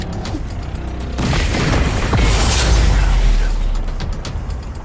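A grenade detonates in the game Wasteland 3, a loud, heavy boom swelling into a deep rumbling roar that sustains for a couple of seconds before slowly fading.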